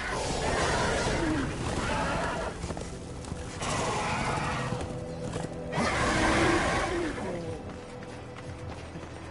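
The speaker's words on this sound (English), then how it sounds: "This is no place for a horse." A horse whinnies in the video game Darksiders 2, with the neigh rising out of dense, loud game sound effects and clanking mechanisms.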